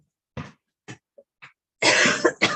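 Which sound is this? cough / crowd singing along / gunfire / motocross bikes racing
cough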